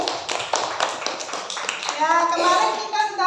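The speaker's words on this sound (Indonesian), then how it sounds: "Tepuk tangan untuk David" Schoolchildren in a classroom clap for a classmate during a lesson, a quick burst of sharp, uneven hand claps that gives way to children's voices talking.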